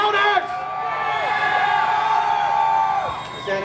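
Out-of-town concertgoers in a crowd yell and cheer in a sustained, loud roar, with individual whoops and bellows rising above the mass before it tapers off.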